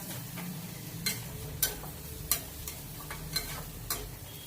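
Paneer bhurji sizzles quietly in a pan as chilli and coriander powder are stirred in, with about six sharp spoon scrapes and taps against the pan at roughly even intervals over a low steady fry, and no talking.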